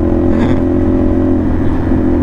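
A CFMoto NK450 motorcycle fitted with an SC Project copy exhaust idles and revs close by, a loud steady low engine drone with a slight rise early on, and no talking.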